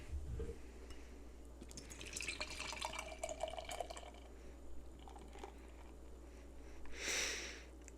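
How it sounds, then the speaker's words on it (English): Exhibit A Brewing Cake, a 6.5% pastry beer, pours into a glass with a soft, faint liquid rush and fizz for a few seconds, then fades to quiet room tone. "Pour, pour, pour."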